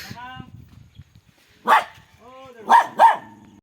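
Three short barks from a small dog, one early and a close pair near the end, with soft talking in the background.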